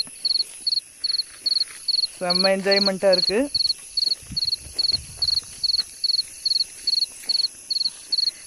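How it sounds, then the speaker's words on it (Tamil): Insects in a thick forest shrill in regular bursts near the Durga halli view point in Chikmangalore, a steady chirping pulse throughout, with someone speaking briefly over it. "வண்டுகளுடைய ரீங்காரம் மட்டும்தான் கேட்குது."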